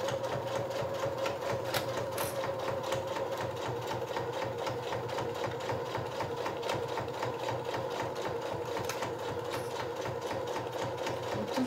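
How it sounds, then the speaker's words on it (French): A sewing machine runs a straight stitch across the top of a fabric bum bag piece at a 1 cm seam allowance, a steady, continuous close hum with fine rapid needle ticking throughout, with no pauses. "on fait une couture au point droit sur le haut de la pièce à 1 cm"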